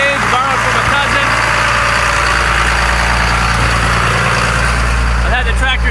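A John Deere 4755 tractor engine idles steadily after running about twenty minutes to warm the hydraulics, a loud, even diesel drone heard close up and continuous throughout.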